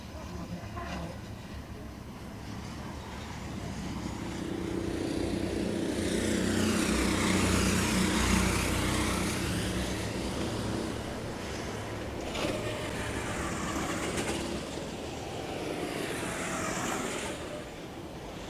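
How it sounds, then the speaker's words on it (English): Two racing karts at the 2022 Kart World Championship roar into the pit lane after their joker lap, a broad engine drone swelling loudly midway and again later as they pass close by. "That those two karts you just heard, that is Alejandro and Camilo coming in."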